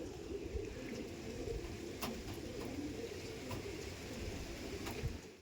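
Andhra pigeons coo softly in a loft, low repeated burbling calls blended into a steady murmur with a few faint sharp clicks, and no voices.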